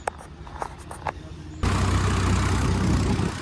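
A tractor pulling a loaded trolley near a river pulls away, its engine starting abruptly into a loud, steady rumble after a few quieter thumps and clicks, continuing close by without a break.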